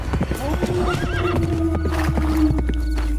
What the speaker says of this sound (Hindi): घोड़े पर सवार होकर